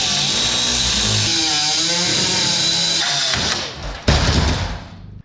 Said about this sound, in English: that step is going to involve cutting all the rivets off of this grill assembly and removing the grill completely from this hood